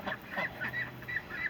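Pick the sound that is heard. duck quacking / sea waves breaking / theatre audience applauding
duck quacking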